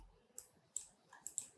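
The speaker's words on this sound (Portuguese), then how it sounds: "dar 2 cliques na minha composição para 3D" Sharp, faint computer mouse clicks in a quiet room, arriving as quick pairs and single taps, about five crisp clicks close by with no talking.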